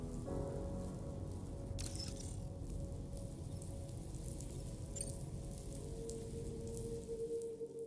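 Rain falls in the video game Death Stranding 2: On the Beach, a soft continuous patter of drops under a low steady hum, with a couple of brief sharp crackles, and no one speaking.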